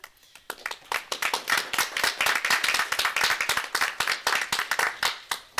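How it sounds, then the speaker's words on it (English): An audience at a school board meeting claps for Aaron Woodard, recommended for a maintenance supervisor post: a few scattered claps quickly build into brisk, moderately quiet applause of distinct hand strikes that carries on steadily. "They're clapping a little prematurely, Aaron, because you haven't been voted on yet."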